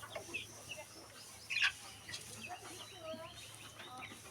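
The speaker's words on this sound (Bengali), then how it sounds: "ডিমের মুরগিগুলো আমার ছেড়ে দেওয়া আছে" Free-ranging laying hens cluck softly on a rooftop, scattered faint calls and short clucks at a distance with a low background hum and someone speaking quietly.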